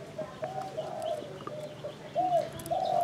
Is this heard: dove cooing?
yes